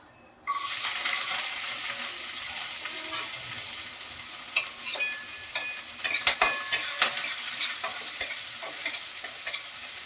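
Mustard seeds, cumin and crushed garlic sizzle in hot oil in a pan, a steady close hiss broken by sharp popping crackles from the seeds, with occasional stirring clinks, no voices.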